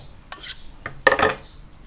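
A chef's kitchen knife, a cheap and durable Cap Ikan blade, scraped in short strokes to raise and remove the burr. Four brief, close rasping swipes come in quick succession, with a quiet pause between the first two and the last two.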